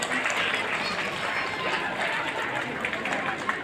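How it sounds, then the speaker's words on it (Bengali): An audience at a spelling bee competition breaks into sustained clapping, a dense steady roar of applause with crowd chatter mixed in. "এবং তার জন্য একটা জোরে করতালি।"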